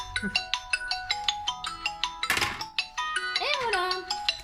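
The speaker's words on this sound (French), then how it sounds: "Je suis désolée hein, pour la sonnerie." A phone ringtone chimes in a repeating melodic pattern of bright tones, with a brief burst of noise and a voice murmuring partway through.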